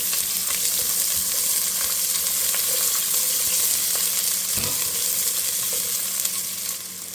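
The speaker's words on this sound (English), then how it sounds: "So we're going to put these onions in here and get those sauteed." One large chopped onion sautés in a pan for green beans with smoked turkey and potatoes, a loud, even, close sizzle with occasional stirring clicks and scrapes throughout, no voices.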